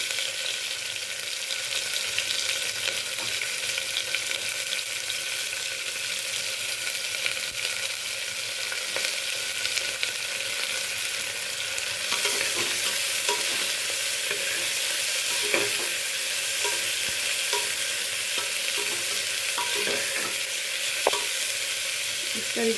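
Garlic, green chilies and onion fry in a pan, a steady broadband sizzle running throughout, with scraping stir strokes and clinks growing more frequent in the second half; no talking.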